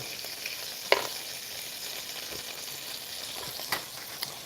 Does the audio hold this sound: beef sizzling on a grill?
yes